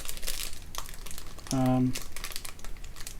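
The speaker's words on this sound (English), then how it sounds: "This crinkling's probably destroying my audio" Plastic packaging holding RJ45 Ethernet end-to-end joiners crinkles and rustles in close, irregular bursts, with a brief tonal hum mid-way and quiet talk in the background.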